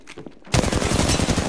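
Burst of rapid automatic gunfire from a squad battle-royale shooter game, a team firing at close range inside a house, loud dense volleys after a quiet start, no talk.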